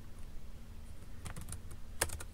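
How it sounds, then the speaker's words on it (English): Commands typed on a computer keyboard while setting up SDR software under Linux: a short burst of several crisp, close key clicks after a quiet pause, fairly soft, with no voice. "I'm just going to type from here on because it's not that much to type."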